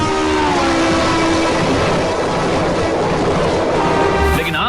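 An Indian Railways passenger train running on the tracks, giving a loud, continuous rumble and clatter of wheels with faint tonal squeals, steady throughout and close by, with no talk.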